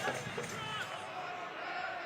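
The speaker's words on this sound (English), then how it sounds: "You hear the crowd trying to get this Rowdies team, trying to give them some energy from the stands" Stadium crowd at a Tampa Bay Rowdies versus Louisville City FC soccer match, a broad distant wash of cheering and noise from the stands, with a voice talking over it.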